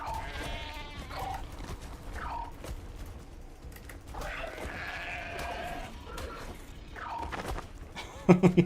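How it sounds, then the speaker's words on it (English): Sheep bleat repeatedly at a moderate level in the video game Lost Colony, their calls rising over a steady background hum and ending in a few sharp mechanical knocks. "I'm just after the sheep. Stop trampling the mutton."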